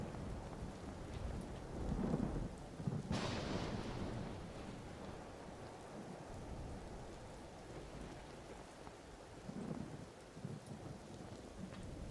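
Steady outdoor storm hiss of snow turning to hail, with a low rumbling swell early on, heard alone without talk.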